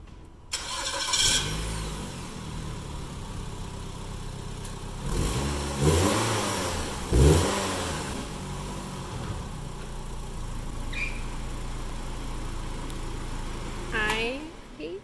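A 2007 Nissan Altima with an inline-four engine starts and revs in a few rising bursts, moderately loud and close, with speech in between and around the engine sounds.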